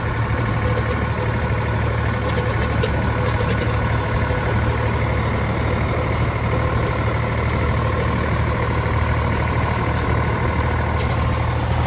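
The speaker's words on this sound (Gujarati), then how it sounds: "જોઈ લો ફાઇનલ આપણું ટ્રેક્ટર લઈને આપણે નીકળી ગયા" A tractor engine runs loud and steady as it pulls away, a continuous deep rumble holding constant for the whole stretch, with no voices over it.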